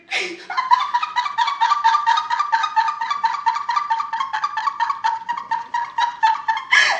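A person makes a rapid, rhythmic clucking imitation of a chicken, a steady series of nasal bursts held for several seconds, close and fairly loud.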